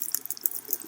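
Faint, quick crackles and small drips come from water melting over a fire in a winter survival game, a short burst of soft trickling and ticking with no voices.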